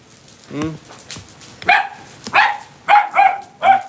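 A dog barks in a home during a wood-firing session, first a low woof, then four or five sharp high barks in quick succession, loud and close, with a person's voice briefly heard.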